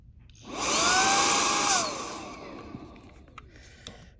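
A household vacuum sucks debris out of a Meta Quest touch controller, a loud, steady whirring roar that runs for about a second before cutting off and fading, followed by quiet handling noises.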